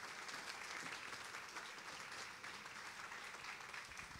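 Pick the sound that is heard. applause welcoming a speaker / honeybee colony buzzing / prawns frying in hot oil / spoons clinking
applause welcoming a speaker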